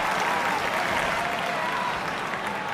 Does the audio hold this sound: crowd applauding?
yes